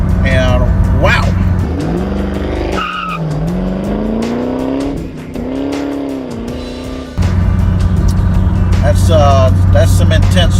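A car engine fitted with a Sprint Throttle Booster set to race mode revs hard and close, its pitch sweeping up and down through several sharp throttle blips, with a voice speaking over parts of it.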